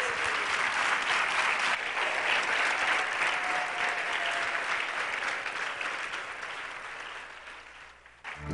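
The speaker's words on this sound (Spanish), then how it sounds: "Vamos a darle un fuerte aplauso al Señor." Church congregation breaking into sustained loud applause, steady dense clapping from a crowd that gradually fades toward the end.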